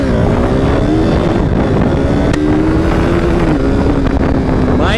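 A motorbike engine in a KTM RC390 versus R15M drag-racing ride roars loud and steady, revving through a wheelie attempt with strong wind rush over the microphone and no talk.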